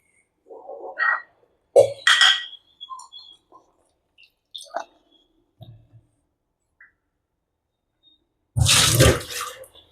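Eggplants are washed by hand in a kitchen: a few faint scattered knocks and handling noises, then a brief, close burst of running, splashing water near the end.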